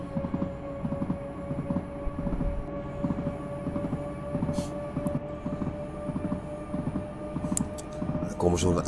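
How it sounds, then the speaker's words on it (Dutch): A train gathers speed in a simulator game on a fictional route on the island of Terschelling, a steady rumbling drone with rhythmic motor pulses and a faint tone, while someone talks over it. "Er zit nog een beste acceleratie op deze trein."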